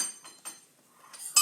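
A knife or pastry cutter slicing through pastry into two long pieces while baking, heard as a few faint, short scraping clicks and clinks against the surface, with quiet gaps between them.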